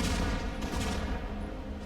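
Many Minions weapon firing in the video game ShellShock Live, a dense, continuous barrage of rapid explosive shots and booms filling the whole moment, loud and steady without pause.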